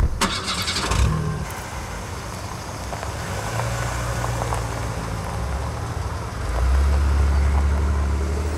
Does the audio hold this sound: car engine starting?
yes